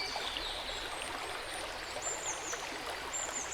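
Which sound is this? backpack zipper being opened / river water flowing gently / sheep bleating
river water flowing gently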